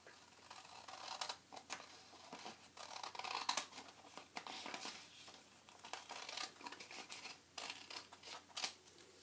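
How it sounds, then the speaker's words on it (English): Scissors snip through folded paper to trim off a bottom strip, with repeated crisp cuts and rustling at close range, no talking. "we're going to cut off this bottom piece down here so that our paper is square."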